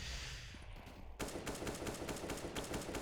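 Grenade blasts and rapid gunfire in a CS:GO pro match on the Overpass map: a muffled lead-in gives way to a sharp burst of dense, loud automatic fire with repeated cracks.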